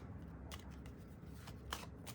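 Tarot cards being shuffled by hand, a few quick riffling bursts of papery flicking over a low, steady background hum, close up and with no talking.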